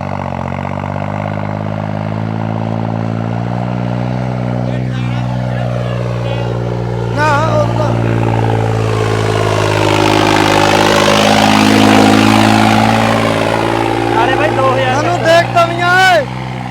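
A Dhinsa-modified tractor with a new engine runs loud and close for the whole stretch, a steady deep drone that swells into a rising rev midway, then settles and fluctuates near the end.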